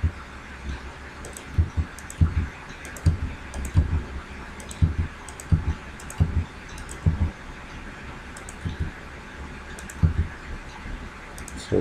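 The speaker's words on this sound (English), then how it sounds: "So here, the program to be typed." Regular clicking of computer keyboard keys as a program is typed into an 8086 emulator, with key presses in brief clusters and short pauses between them, close up and with no talking.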